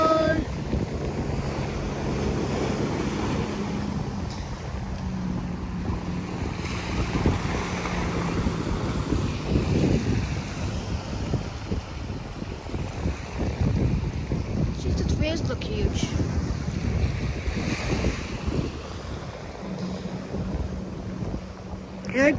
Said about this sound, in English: These waves are gonna be insane.